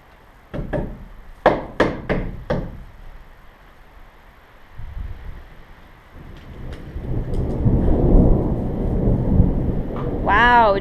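Thunder rolls in a rising, deep rumble during a storm at a framing site, following a few sharp wooden knocks from stud work; the low roar swells and lingers toward the end.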